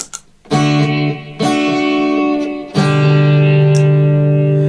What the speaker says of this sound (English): it's a gate, so it kind of chops off certain levels